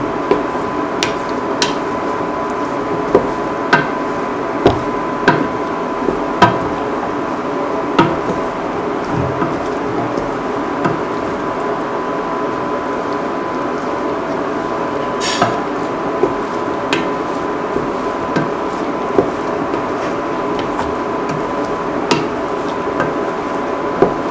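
Spices being stirred into an ash gourd and coconut milk stew in a pot, with a steady low simmer under frequent sharp taps and clinks of a spoon against the pot.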